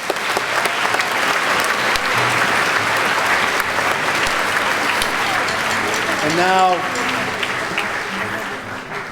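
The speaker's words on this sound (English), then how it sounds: "one more round of applause." A school assembly audience gives a sustained round of applause, dense clapping filling the room loudly and evenly, with a voice briefly speaking near the end as it fades slightly.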